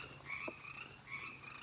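Frogs croak near a garden water feature, giving a faint, sustained trilling chorus with one brief lower croak, heard from outdoors and without any voices.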